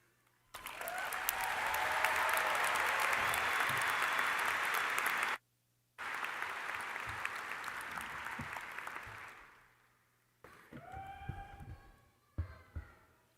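At a spring 2025 university commencement ceremony, a crowd claps loudly and steadily for several seconds. After a brief silence the applause resumes more thinly and fades, followed by some tonal electronic sounds and a few sharp noises.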